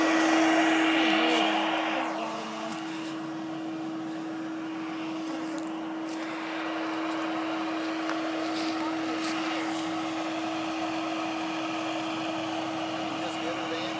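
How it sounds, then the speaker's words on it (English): A vacuum hums steadily during a honey bee removal in Hitchcock, Texas, a constant droning tone throughout at moderate distance, with faint voices and outdoor background noise around it. "Go ahead and kick that vacuum back on and make sure they're not coming out that hose."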